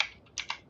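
A few quick, soft keystrokes on a computer keyboard while a chat message is typed during a Counter-Strike 2 match, with light close clicks in a brief burst.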